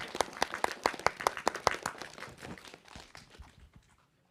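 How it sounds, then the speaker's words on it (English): A small audience at an industry insight and student pathways event clapping: a burst of sharp, distinct claps that thins out and fades within about four seconds, with faint murmuring at the end. "can we say thank you and give another round of applause?"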